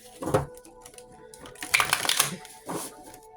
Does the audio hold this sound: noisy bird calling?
no